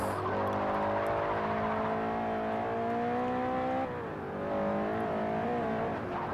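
A car engine in automatic in the video game Forza Horizon holds a loud, steady high-revving drone with strong harmonic tones, dips briefly near the middle as revs shift, then climbs again, with no talking.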